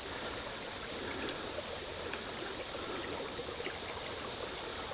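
A stream of water flows along a hiking trail at French Creek State Park, a steady, close babble and rush with fine trickling detail, unbroken throughout and with no voices.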